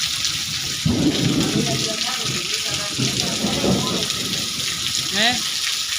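Heavy rain pouring steadily close by with deep rumbles of thunder, a dense continuous wash of sound with a voice briefly heard near the end.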